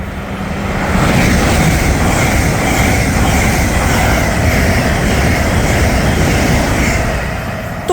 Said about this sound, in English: passing through now is an Advanced West Coast Stars 390, although it might be an Ivero